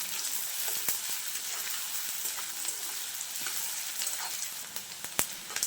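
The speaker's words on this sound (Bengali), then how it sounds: "আমি নেড়ে চেড়ে পেঁয়াজ আর লঙ্কা ভেজে নেব" Chopped onion and green chili fry in hot oil for an egg paratha filling, giving a steady close sizzle with crackling pops and occasional scraping stirs against the pan.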